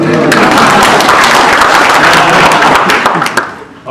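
Loud, close applause from a conference audience after a talk on agile goal setting, many hands clapping at once and then thinning out and dropping off near the end.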